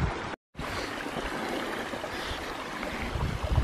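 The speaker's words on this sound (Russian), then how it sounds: "Здесь течет речка." A mountain stream beside an old abandoned village in the mountains rushes in a loud, dense, continuous wash of flowing water, briefly cut by a short gap near the start.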